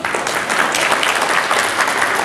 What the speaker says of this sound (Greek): είναι ο Κατσούλος ο Παναγιώτης, να δώσουμε ένα χειροκρότημα για αυτόν